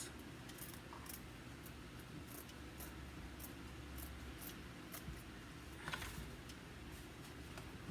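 Scissors snip through stacked dryer sheets in a quiet room, a series of soft, crisp cuts arriving in an uneven rhythm, close and faint, with no talk.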